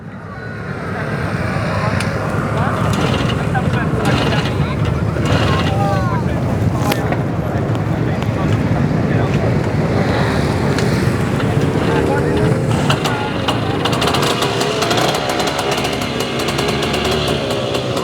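A Romet T50-1 motorcycle engine, a Polish two-stroke, starts and then runs and revs steadily and loudly throughout, with wind buffeting the microphone and a voice heard briefly.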